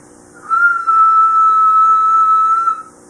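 A CB radio with a low dead-key mod keys up into a steady high whistle that holds for a couple of seconds with a brief dip near the start, loud and alone, then cuts off.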